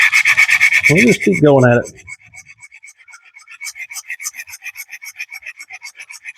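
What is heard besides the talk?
sharpening a camp knife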